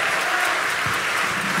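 Concert audience clapping at a live music show in Krasnodar, a dense, steady wash of many hands at a close, even loudness throughout.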